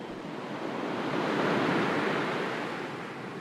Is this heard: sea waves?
yes